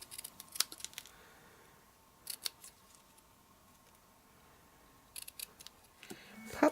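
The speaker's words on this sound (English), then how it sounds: "I'm just going to cut a little fishtail here at the end." Small scissors cutting a fishtail notch into a paper or cardstock strip for a flower-pot craft card, a few quiet, crisp snips in short clusters amid near silence, no voices.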